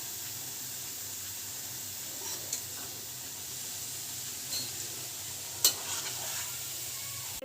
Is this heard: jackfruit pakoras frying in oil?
yes